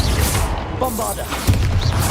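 Bombarda blast spell going off in Hogwarts Legacy combat: a dense, rumbling burst of magical explosion noise with ringing tonal shimmer, steady and loud across the moment, swelling again with a fresh thump near the end.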